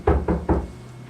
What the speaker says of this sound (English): he heard a big bad shark knocking at the door